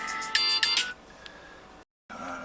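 A short electronic ringtone melody plays for under a second, then a quieter background hum, a brief dropout, and noise resuming.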